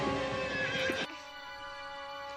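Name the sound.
horses neighing and hooves clopping in a movie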